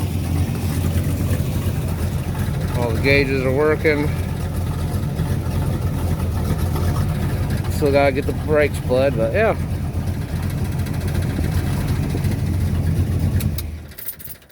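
A 1977 Chevrolet El Camino idles steadily nearby with a low rumbling drone and an exhaust leak, running the whole time while someone talks over it before the engine cuts off at the end.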